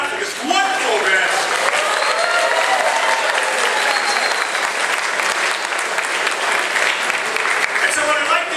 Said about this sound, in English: give yourselves a great round of applause for coming out to this wonderful event.